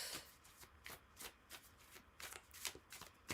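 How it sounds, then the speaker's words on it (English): A tarot card deck being shuffled by hand, with crisp riffling bursts in quick irregular succession, close and fairly quiet, with no talking. "your deck is shuffled"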